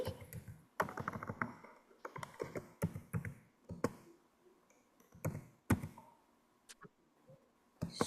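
Rapid irregular keystrokes clatter on a computer keyboard while typing Arabic, close and fairly crisp, in bursts with brief pauses.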